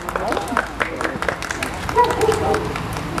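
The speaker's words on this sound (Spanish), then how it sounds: "los demás, un aplauso bien fuerte" Scattered hand claps from a small birthday audience gathered for a youth mariachi serenade, loose and uneven rather than a full ovation, with chatter and voices mixed in around them.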